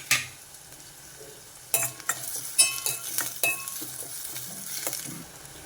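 Onions, green chillies and curry leaves frying in a pan for a raw mango curry, a soft sizzle under repeated metallic clinks and scrapes of a spoon stirring against the pan, close by.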